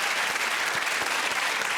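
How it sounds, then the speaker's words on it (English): Studio audience applause on a comedy panel game show, a dense steady wash of many hands clapping at full volume for the whole short stretch, with no voices over it. "Round of applause for Fabio."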